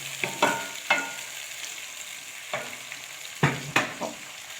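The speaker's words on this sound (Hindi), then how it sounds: "अब इसमें हम चिकन डाल देते हैं। इसको हमने 10 मिनट तक इसको ऐसे फ्राई करना है।" Chicken pieces frying in oil in a pan for a turnip chicken curry. A steady sizzle runs under several sharp scraping clinks as a spoon stirs, heard up close with no voices.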